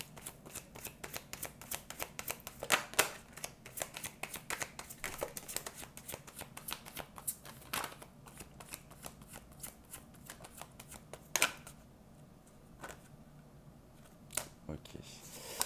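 Tarot cards are shuffled and drawn by hand, giving a dense, continuous run of soft riffling flicks and taps at close range, with a few sharper slaps standing out and quieter gaps near the end.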